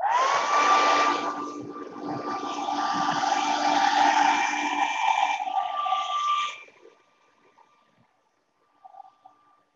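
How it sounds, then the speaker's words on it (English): A hair dryer blows with a loud, steady whoosh and whine for several seconds, then switches off, followed by a brief faint noise. "I'm gonna show you that if you use a blow dryer"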